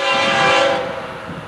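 FEC 101 freight train sounds a long, loud, steady horn blast nearby, its tone fading toward the end.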